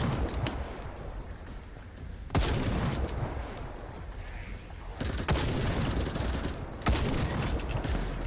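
Gun firing in The First Descendant video game: nearly continuous rapid shots with heavier blasts at intervals, loud and close, with no talking.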